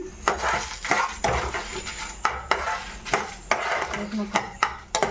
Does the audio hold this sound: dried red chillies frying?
yes